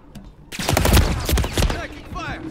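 Gunfire in Call of Duty: Modern Warfare III, a dense clatter of rapid automatic shots from close range, loud and sustained for about two seconds with voices mixed in.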